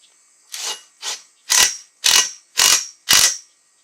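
A ratchet socket wrench tightening bolts on front-step railings: six sharp ratcheting bursts, close and loud, each about half a second long and evenly spaced, with nothing between them.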